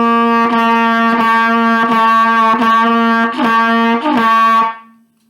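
A trumpet plays a series of short, evenly separated repeated notes on one pitch, bright and loud, ending with a held tone that fades.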